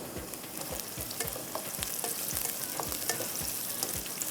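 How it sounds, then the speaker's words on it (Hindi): Whole spices such as bay leaf, cardamom and cinnamon fry in a pan for pulao, making a steady crackling sizzle with regular light stirring taps against the pan. "थोड़ा सा इसको पहले फ्राई करेंगे।"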